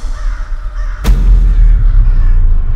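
A crow caws loudly and close in a dark fantasy film scene, a single harsh call breaking out over a low rumbling backdrop.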